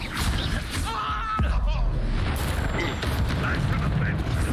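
The Bombarda blasting spell goes off in the Hogwarts Legacy video game, giving a loud, dense explosive burst amid ongoing combat effects and music. A voice speaks over the rumble.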